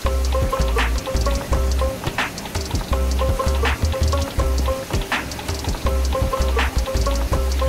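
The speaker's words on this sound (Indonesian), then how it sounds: "suara gemericik air bisa menenangkan" Water splashing and trickling into a koi pond that holds an old patin catfish, a loud continuous patter with repeating droplet-like splashes over a low steady rumble.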